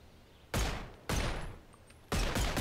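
Three loud, close gunshots from a modded gun in the VR game Bonelab, each a sharp blast with a decaying tail, spaced unevenly about half a second to a second apart.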